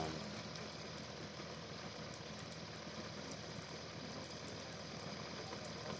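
A Bedini motor spins a small 6 or 7 inch rim at about 2,000 RPM, giving off a steady, continuous whirring hum at a constant level with no talk.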